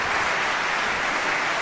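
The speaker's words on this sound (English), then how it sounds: "a very warm applause from the audience for both of them" Warm applause from a concert audience after a Mozart piano concerto performance at a conductors' competition, a steady dense wash of clapping throughout with no voices.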